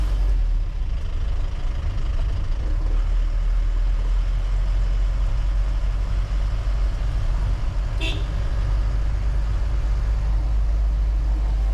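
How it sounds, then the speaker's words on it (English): A Mahindra Bolero 2017 diesel engine drones low and steady while driving, heard from inside the cabin with road noise and a brief horn toot partway through. "you can also hear the sound of the engine since it's a diesel"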